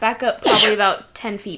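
A player sneezes once, a sharp, loud burst, mid-sentence during an online tabletop role-playing game session, with speech just before and after.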